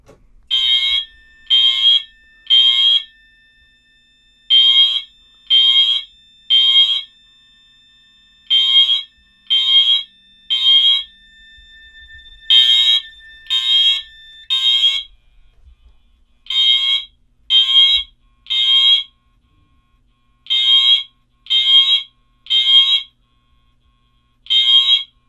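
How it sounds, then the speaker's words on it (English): A building fire alarm system sounds in temporal pattern: repeated sets of three loud, piercing horn blasts separated by short pauses, running continuously with no talk. "let's go ahead and get straight into it and pull the alarm."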